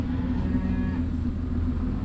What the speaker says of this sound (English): Oh hush, cows want out here.